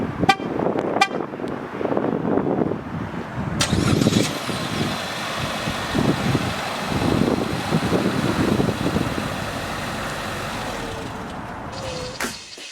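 A 2020 Chevrolet Trax with remote start cranks and fires up, then settles into a steady, fairly quiet exhaust idle with a few brief sharp tones over it, heard close by.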